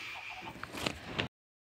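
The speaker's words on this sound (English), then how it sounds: "There's one of my chickens." Chicken in Minecraft Pocket Edition giving a few short clucks over a faint game background, the sounds clustered near the end before cutting off to silence.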